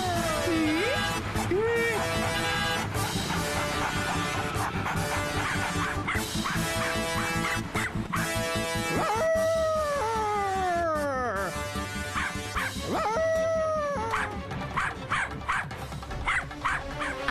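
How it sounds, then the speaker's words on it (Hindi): A dog barks and yelps repeatedly in a cartoon episode, sharp bow-wows over a loud, continuous music score with swooping whistle-like tones. "अब भौंकना बंद कर"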